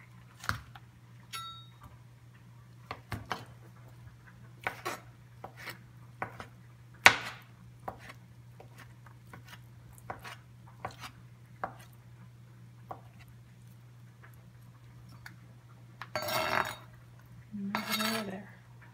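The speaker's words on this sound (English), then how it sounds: "Let's slice up some baked tofu." Knife slicing through firm baked tofu on a board: sparse, crisp taps and clicks at an uneven pace over a steady low hum, with a couple of longer scraping strokes near the end.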